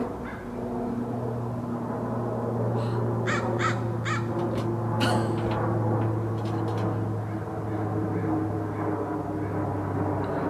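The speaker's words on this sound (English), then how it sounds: "it's crows" Several crows caw outdoors in short, harsh clusters of calls mid-distance, over a steady low drone of a passing airplane.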